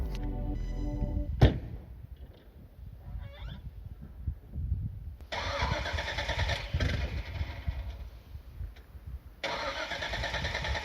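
A Chevrolet Camaro's starter cranks without the engine catching, heard close up in repeated grinding bursts with a sharp clunk early on and no one speaking.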